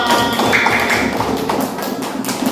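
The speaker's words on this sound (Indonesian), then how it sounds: "tepuk tangan untuk kita semua" A classroom of schoolchildren claps hands together in a steady, dense patter of taps that carries on evenly for the whole stretch, close and moderately loud, with no talking.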